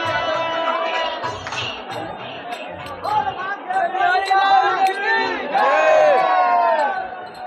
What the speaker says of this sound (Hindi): ये दोस्तों राधा वल्लभ मंदिर के लिए भीड़ बहुत ज़्यादा संख्या में है